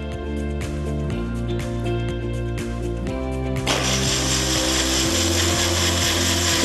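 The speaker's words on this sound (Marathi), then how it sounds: "आणि आता हे आपण मिक्सर मध्ये छान वाटून घेऊया." A kitchen mixer grinds a jaggery mixture, its motor whirring steadily and loudly in short pulsed bursts before surging into a harsher, fuller grind for the last few seconds, with no talk.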